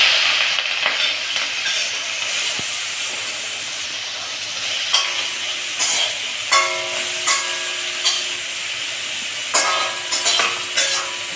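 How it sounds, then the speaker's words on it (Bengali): Prawns frying in a hot wok, a steady sizzle broken by repeated metallic spatula scrapes and clinks in an uneven rhythm, close and clear, with no one speaking. "এখন চিংড়ি কটা ভেজে নেব।"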